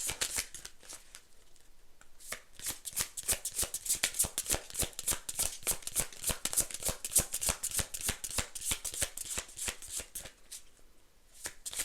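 Oracle cards are shuffled steadily by hand for several seconds, producing a fast, continuous run of crisp close flicks that builds and then eases off, with no talk over it.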